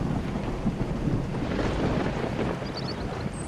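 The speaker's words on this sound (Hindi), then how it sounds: "अभी वो थोड़ा ही दूर गया था कि बारिश तेजी से शुरू हो चुकी थी।" Heavy rain pours down in a steady wash, with low thunder rumbling through it and gusts of wind buffeting the microphone.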